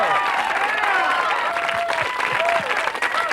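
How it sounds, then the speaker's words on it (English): Audience applause fills the room at an evening comedy show in Vegas, a dense, steady clapping crowd, loud and close, with a voice speaking over it. "Big round of applause for our banker for the evening"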